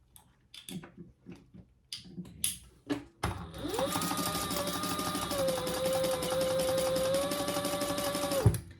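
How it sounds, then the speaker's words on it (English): A sewing machine stitches around a backpack flap placed right sides together, running steadily for about five seconds after a few quiet clicks and handling sounds, with a brief thump as it stops. "I'm just gonna sew around, leaving the top open for turning"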